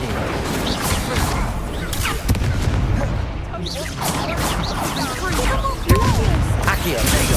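Incendio fire spell from Hogwarts Legacy, cast repeatedly in the middle of combat: dense bursts of whooshing, crackling impacts pile up over a steady roar of game effects and music, with a sharp heavier hit near the end.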